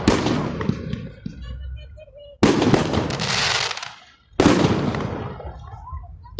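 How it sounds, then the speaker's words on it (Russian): Fireworks go off in a May 9 Victory Day salute in Chernushka, with three loud booming bursts a couple of seconds apart. Each burst crackles and echoes as it fades, and faint crowd voices sound in the background. "Заканчивается Салют."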